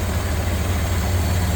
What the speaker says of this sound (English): that old inline 4-cylinder is just running as smooth as can be